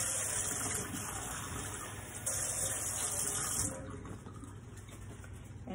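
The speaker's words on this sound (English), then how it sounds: "Then I'm going to go ahead and discard this barbicide mixture that I have here. Rinse my container." Running tap water pours steadily into and over a container being rinsed out after discarding barbicide disinfectant, a continuous close splashing gush that eases slightly toward the end.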